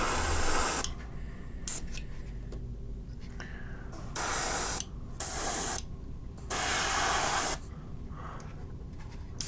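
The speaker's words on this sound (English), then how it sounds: "I'm noticing spots where the wood is just like soaking up the airbrush paint." An airbrush sprays paint onto porous MDF wood terrain in repeated loud hissing bursts of a second or two each, separated by short pauses.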